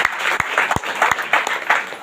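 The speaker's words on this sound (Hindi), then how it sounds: "जोरदार ताली से प्रभु धन्यवाद करिए" A church congregation claps in thanks during a prayer service. The applause is moderate and uneven, with a few sharp individual claps standing out over a wash of voices.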